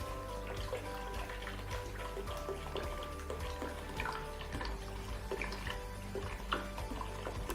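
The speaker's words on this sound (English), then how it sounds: "Next, we're going to add our pink grapefruit juice. Just go ahead and pour in the entire bottle." Pink grapefruit juice pours steadily into a punch bowl with a continuous splashing and trickling, alongside a faint background hum.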